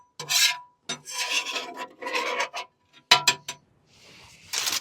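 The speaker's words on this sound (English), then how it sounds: "Give the grill a quick scrape here." A metal scraper rasps across the hot grate of a Masterbuilt Gravity Series grill heated to 500 degrees, in five or six loud, close strokes separated by short pauses.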